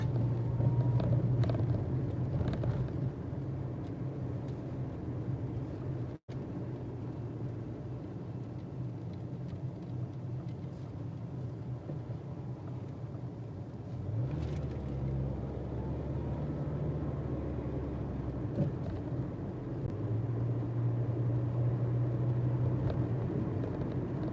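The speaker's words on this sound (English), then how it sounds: "Just slow plodding through traffic." A car creeps slowly through traffic toward a stoplight, giving a steady low engine and road rumble inside the cabin that swells slightly partway through, with no talking.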